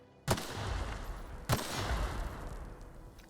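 Gunfire in the video game The Outer Worlds: two sharp, loud blasts about a second apart, each followed by a rumbling, noisy tail, with no speech.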